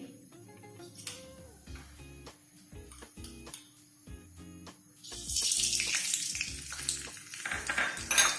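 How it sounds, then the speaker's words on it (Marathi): Mustard seeds dropped into hot oil for a Maharashtrian dal tempering, first scattered clinks and taps, then a louder rising sizzle with crackling pops over the last few seconds. "आता तेल गरम झालेलं आता त्याच्यामध्ये मोहरी"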